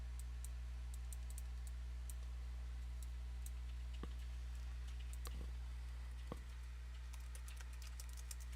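Fast, uneven keystrokes on a computer keyboard, faint and close, scattered over a steady low hum with a few sharper key clicks standing out; no talk.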